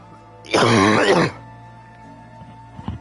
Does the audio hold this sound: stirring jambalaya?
no